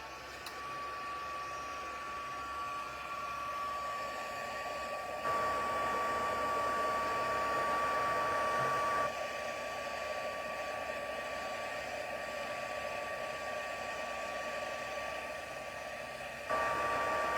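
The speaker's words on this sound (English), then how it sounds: "So I'm just going to turn my heat tool on" A craft heat tool blows continuously with a steady, loud whirring hiss, close by and unbroken, with slight shifts in tone as it moves while heat-embossing a card.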